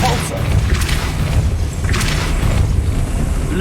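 A Depulso spell is cast in Hogwarts Legacy, a deep booming thud that rolls over a dense wash of in-game ambience and effects while other spell sounds crowd around it.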